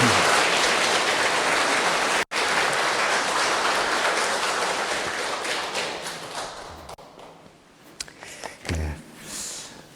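Church congregation of a Catholic parish applauding during a Lenten music lecture, dense sustained clapping that fills most of the stretch before thinning and fading out toward the end.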